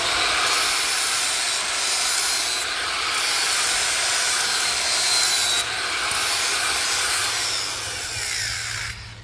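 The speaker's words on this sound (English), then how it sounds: "I want to smooth out the edges with my grinder so they don't chip when I hammer hot steel on it" An angle grinder fitted with a flap disc smooths the edges of a steel anvil, giving a continuous harsh abrasive hiss with slight rises and dips in pressure, heard alone and close.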